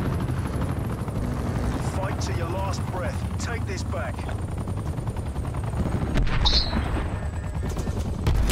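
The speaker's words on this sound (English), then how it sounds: "Hostile attack helicopter inbound." An attack helicopter in Black Ops Cold War drones with a steady rotor roar throughout, mixed with bursts of machine-gun fire and gunshots, while players talk over the din.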